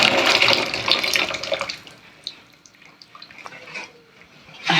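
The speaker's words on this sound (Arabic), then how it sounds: "هانتي صفي عنا الماء بحال هكا نكبو في البانيو" Water from boiled potatoes poured out of a pot into a bathtub: a loud, close rushing splash for about two seconds that thins to a faint trickle with scattered drips, then swells again at the end.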